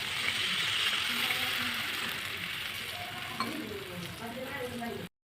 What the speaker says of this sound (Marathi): आपल्या पाण्याला इथं मस्त उकळी आलेली आहे.